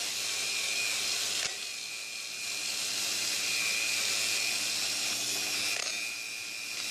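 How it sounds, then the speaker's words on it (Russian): A Volkswagen Crafter 2.0 TDI cylinder head with a welded repair is scrubbed mechanically with brushes, making a steady close abrasive whirring hiss that runs continuously with only a brief dip early on. "Перед началом всех работ драю головку механическим путем при помощи подобных"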